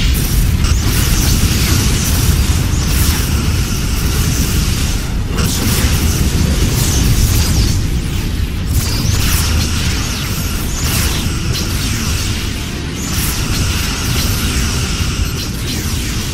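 A Borg cube is destroyed in a Star Trek space battle game, with loud, dense rumbling explosions and booming bursts that roll continuously through the whole stretch.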